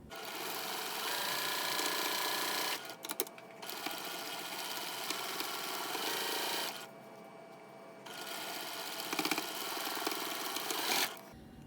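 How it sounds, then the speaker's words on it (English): Sewing machine stitching quilt blocks together with right sides facing, a steady, close whirring run that pauses briefly twice and then resumes, with no talking. "then sew right sides together all the way down"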